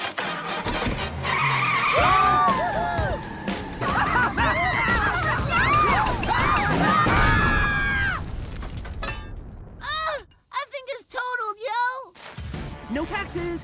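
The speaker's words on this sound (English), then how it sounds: "Now let us enjoy our new purchase by making it go the vroom!" Cartoon sports car revving and skidding, a loud sustained run of engine whine and tire screeches with rising and falling pitch, followed by scattered cartoon effects and voices near the end.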